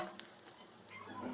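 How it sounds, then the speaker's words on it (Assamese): Chopped onion with crushed ginger and garlic frying together in hot oil while being browned, giving a steady close-up sizzle with light stirring scrapes throughout and no talk. "এতিয়া মই ৰঙচুৱা হোৱালৈকে ভাজিব লাগিব"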